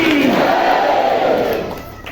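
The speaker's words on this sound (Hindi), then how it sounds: "ताली बजा के प्रभु का धन्यवाद करें" Congregation at a Hindi Christian church service clapping and cheering in praise, a dense, loud wash of crowd noise and shouts that fades slightly at the end.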